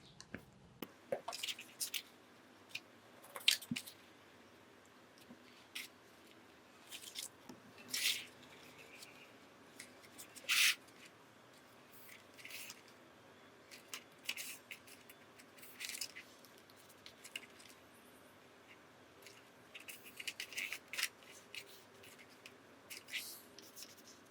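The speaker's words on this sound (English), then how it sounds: "So I'm going to cut a piece of scrapbook paper to 6 by 2 1/4 inches." Scissors cutting scrapbook paper for a mini album, heard as scattered crisp snips and paper rustles at irregular intervals, close and fairly quiet with no talking.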